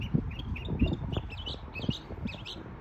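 A Hidalgo songbird sings a series of short, high chirps and twittering phrases at a moderate distance, repeating irregularly over a low outdoor rumble.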